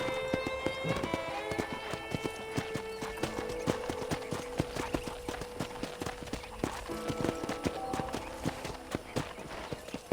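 Rapid hoofbeats clip-clop in a fast galloping rhythm, with a horse whinnying at the start and game-style music and effects layered beneath, from the video game Red Dead Redemption.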